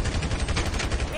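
Rapid automatic gunfire in the GTA V video game, a dense burst of closely spaced shots filling the short stretch without any talk.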